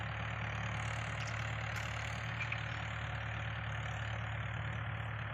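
A tractor engine pulling bullock carts drones at a steady idle, loud and continuous, with a constant low rumble and no talking.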